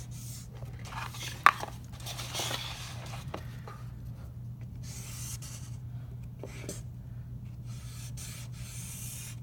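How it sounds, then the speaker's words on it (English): Big shapes being drawn on paper, heard as faint, intermittent scratchy strokes over a steady low electrical hum, with a sharper tap near the start. "So I'm drawing some big shapes right now."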